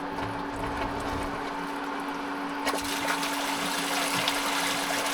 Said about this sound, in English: Now it's pumping, obviously.